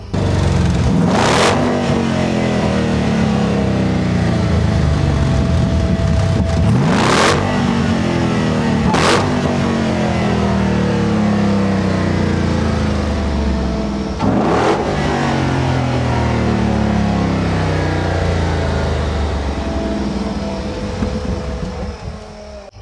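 The 707-horsepower Hellcat engine in a Jeep Trailcat concept revs hard again and again, loud and close, its pitch climbing and falling, with sharp bursts between sustained roaring.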